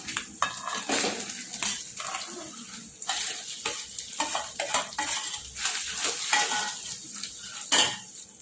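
Potatoes tumble into a pan of garlic-ginger paste, green chillies and asafoetida for a frankie filling and get stirred. Repeated scraping and clattering of a utensil against the pan sounds over a soft sizzle, close and without talk.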